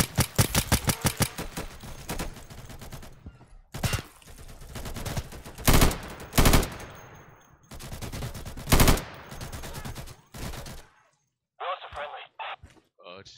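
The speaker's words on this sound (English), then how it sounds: "Ow, I'm getting shot." Gunfire rattles in the video game Insurgency: rapid automatic bursts and scattered single loud shots, close and sharp, broken by short pauses and followed by fainter clicks near the end.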